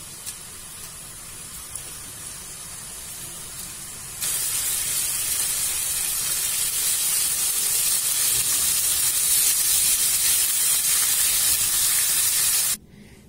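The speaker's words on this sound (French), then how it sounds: "On va laisser bien griller." Steady sizzling hiss of meat frying in a hot pan for quesadillas, growing louder partway through, then dropping off abruptly near the end.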